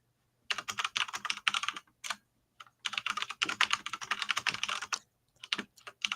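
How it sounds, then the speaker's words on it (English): Fast, loud clattering on a clicky mechanical keyboard, bursts of dense keystrokes split by short pauses, close to the mic with no talking. "I've got a clickety clackety keyboard"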